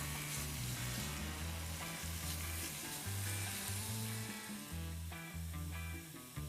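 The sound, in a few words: paper-thin A5 Wagyu beef slices sizzling in a pan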